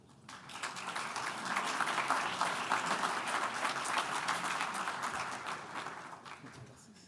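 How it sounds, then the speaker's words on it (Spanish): Audience applause for a speaker at a talk, a dense, steady burst of many hands clapping that swells within the first second, holds for several seconds, then thins out toward the end. "Los saludamos con este aplauso."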